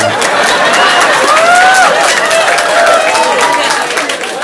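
Dense, loud applause fills an audience at an Islamic sermon, steady throughout with scattered cheers and voices rising over the clapping.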